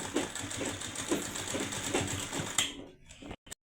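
Domestic sewing machine stitching a katori blouse runs in a steady, fairly quiet mechanical whirr with rhythmic thumping, then stops with a couple of soft clicks.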